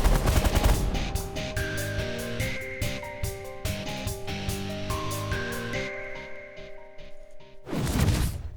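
Capital ships fire weapons in The Last Federation, producing a dense, loud volley of rapid gunfire bursts with ringing tonal tails that thin out and then return in a final heavy barrage.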